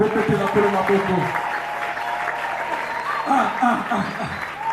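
Church congregation at a prophet's preaching service applauding, a burst of crowd clapping mixed with voices and cheers, rising again later under a speaking voice.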